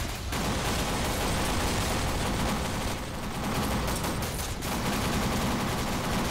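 Heavy, sustained gunfire in a video game firefight roars nonstop and loud, with rapid overlapping shots that dip only briefly before continuing.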